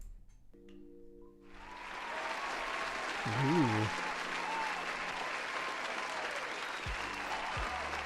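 An applause sound effect playing on a Warhammer 40k build livestream, steady crowd clapping that swells in and holds at moderate level, with someone talking over it.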